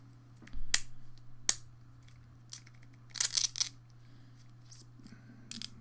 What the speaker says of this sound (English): That is the left arm of the Iron Man figure.